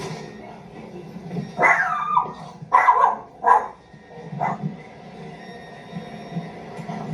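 Several dogs give a few rising, drawn-out yelps and barks in short bursts, fairly close, with quieter whining between them, past midnight, a microwave beeping.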